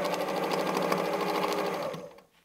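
Sewing machine running steadily through free motion quilting, stitching straight, zigzag and curved paths, a dense continuous mechanical whir that stops abruptly near the end.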